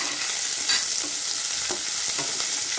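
Green chilies sizzle in hot ghee for a tadka, a dense, even hiss with faint crackles and small spatula taps, close and steady, with no voices.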